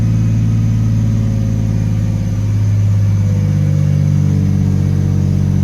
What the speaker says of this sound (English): See, it still wants to stall on startup.